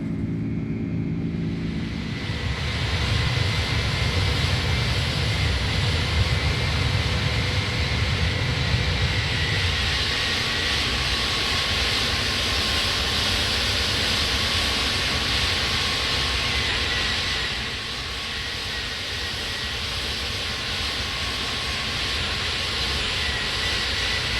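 A loud, steady jet engine roar rises in power as a TAROM airliner accelerates for takeoff, with a deep rumble early on that fades as the high whine and rushing noise continue.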